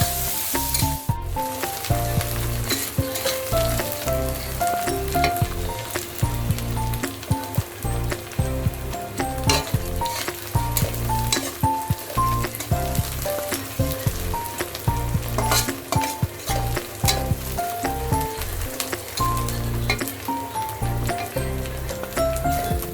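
Onions fry in a pan for Bengali chicken kosha, a loud continuous sizzle with rhythmic scraping and clinking of a spatula, while music plays over the cooking.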